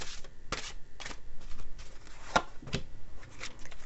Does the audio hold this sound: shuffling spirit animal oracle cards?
yes